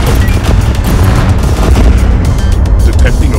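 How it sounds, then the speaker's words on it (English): A charged main cannon fires in the Android space shooter Space Wanted, a loud sustained booming roar with dense low rumble and crackle throughout. "Main cannon, fully charged."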